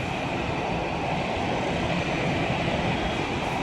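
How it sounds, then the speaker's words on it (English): A steady, dense engine roar from a just-landed airliner taxiing toward the terminal at Chennai airport, heard from a distance as a continuous broadband rumble without pauses or speech. "This flight has just landed. It's now taxiing towards the"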